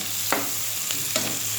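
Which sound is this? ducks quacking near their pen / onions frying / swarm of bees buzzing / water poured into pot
onions frying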